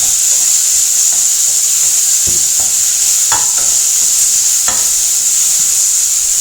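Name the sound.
tomato being stirred and fried with curry leaves, ginger, garlic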